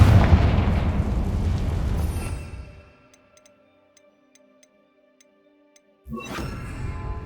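A Confringo fire spell explodes in Hogwarts Legacy with a loud roaring blast that fades out over a few seconds, then faint ticking in near silence before another loud burst erupts.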